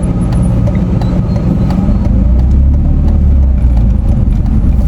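A Tata Nano car driving on a road, heard from inside as a steady, loud low rumble of engine and road noise with faint rattles above it, no voices.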